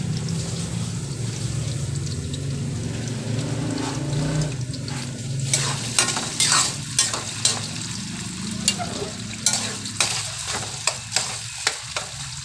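Corned beef and potatoes fry in a pan, giving a constant sizzle; after a few seconds a spoon begins scraping and stirring in repeated sharp strokes close up.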